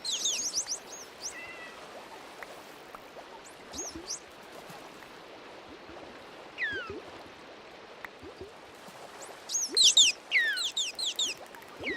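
Chirping creatures in a Minecraft aquarium build, sharp high tweets and chirps in scattered bursts over a faint watery background, loudest clusters near the end.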